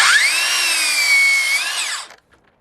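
A Makita DLS600 18V cordless mitre saw makes one steady, loud whining cut lasting about two seconds, then spins down and stops, leaving near silence.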